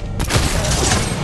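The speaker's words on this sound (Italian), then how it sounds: "I fucili a pompa non fanno abbastanza danno." Shotgun blasts in the video game Dead Island 2: a sharp, loud burst after a quiet start, followed by dense rumbling gunfire and crashing impacts that fill the rest of the moment.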